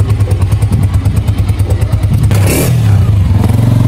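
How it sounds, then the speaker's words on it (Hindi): Motorcycle riding, the engine chugging in a steady rapid pulse close by, then a whooshing surge of wind and road noise as it picks up speed. "बाइक पे जा रहे हैं"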